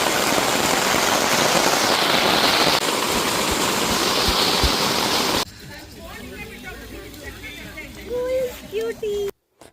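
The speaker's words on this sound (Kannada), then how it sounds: "ಅವಾಗವಾಗ ಮಧ್ಯದಲ್ಲಿ ಈ ಥರ ಮಳೆ ಬಂದು" Heavy rain pours down steadily at a campsite at Stone Mountain, Georgia, a loud continuous wash that gives way to quieter surroundings where a voice speaks before cutting off.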